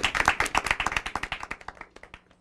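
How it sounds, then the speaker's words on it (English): A TV show studio audience applauds with dense, rapid clapping that gradually thins and fades toward the end. "Big round of applause for Anya."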